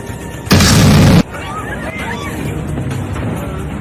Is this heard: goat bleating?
no